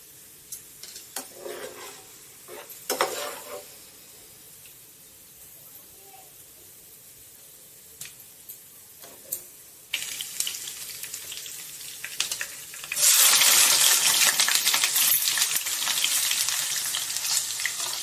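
Sliced onions fry in oil, turned until browned into crisp beresta for Kesari fried rice: quiet intermittent sizzle and stirring at first, then a loud, dense, continuous sizzle for the final seconds, with occasional talk early on.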